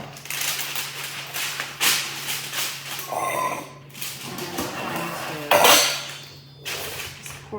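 A metal baking pan is handled in a home kitchen, with several loud clanks and scrapes separated by quieter rustling, close by and with no one talking.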